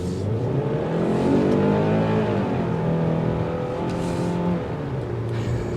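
A 2023 Kia Sportage SX engine revs hard under acceleration, its pitch climbing steadily through a couple of gear changes, loud and steady with no talking.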